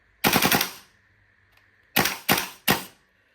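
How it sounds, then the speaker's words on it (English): An airsoft Bulldog TWS gas blowback M4 rifle fires a short rapid full-auto burst of about four shots, then after a pause three single sharp cracks, each close and loud with metallic bolt clatter, no voices. "I'm going to drop the bolt and then single shot and then full auto."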